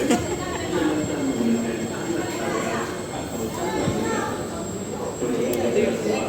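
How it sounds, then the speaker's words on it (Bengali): A metro train pulls into a station on the line toward Kranji, with a steady rumble and a brief high wheel squeal as it slows, and faint voices around it. "আমাদের ট্রেন চলে আসছে,"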